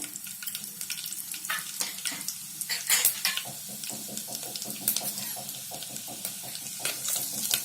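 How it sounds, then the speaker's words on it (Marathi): Half a teaspoon of cumin seeds crackling in three teaspoons of hot ghee in a pan: rapid irregular pops and snaps over a low sizzle, with a few clinks of utensils nearby and no talking. "जिरं थोडं तडतडू दे"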